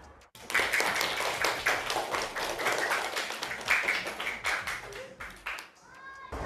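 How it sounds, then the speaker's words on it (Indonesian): Children applaud together in a classroom: a burst of fast, dense clapping after a brief pause, fairly loud and close, with some chatter and a rising voice near the end. "Tepuk tangan untuk Najma."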